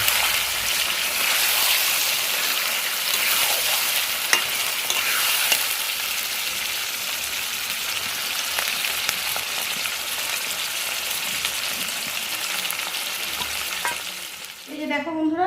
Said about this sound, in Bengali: দেখো এখানে চিকেনটা দিয়ে দিলাম, চিকেনটা এবারে ভালো করে কষিয়ে দিই।